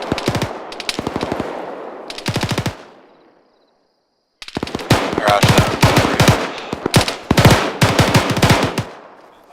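Loud bursts of automatic machine-gun fire during a military training exercise, with rapid rattling volleys, a brief silent pause, then longer sustained bursts.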